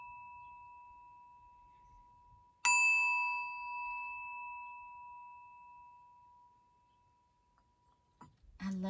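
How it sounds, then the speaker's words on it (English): A single bell is struck once and rings out in a clear, sustained tone that slowly decays over several seconds in an otherwise quiet room, with faint movement sounds at the end. "Ring the bell."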